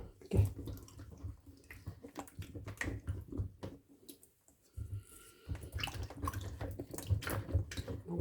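Freshly harvested paprika peppers are washed by hand in water, with soft intermittent splashing, dripping and handling noises, a short quiet gap midway, heard close.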